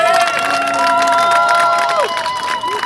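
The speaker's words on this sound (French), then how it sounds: "j'aimerais qu'on applaudisse pour Laurent Gbagbo" Outdoor crowd at a Modibo Keïta memorial gathering on a public square, applauding and cheering for Laurent Gbagbo in a dense, steady roar with whistles and shouted voices throughout.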